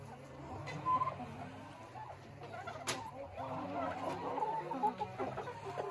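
Chickens cluck and murmur softly while being fed bread, a scattered flock making low repeated calls at moderate distance, with one brief sharper sound near the middle.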